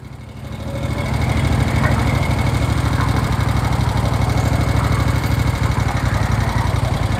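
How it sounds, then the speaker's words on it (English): A 1972 Moto Guzzi Eldorado police motorcycle with a 1,000cc engine idles slightly high, a loud, close, steady throbbing pulse with a fast even rhythm that builds in the first second and then holds. "This idles, I like the way this idles."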